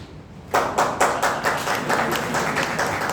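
An audience at a poetry recitation during a braille training session at an ashram in Bhopal claps in quick, regular beats that begin abruptly and stay close and moderately loud.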